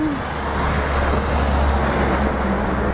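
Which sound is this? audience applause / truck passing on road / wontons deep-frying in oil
truck passing on road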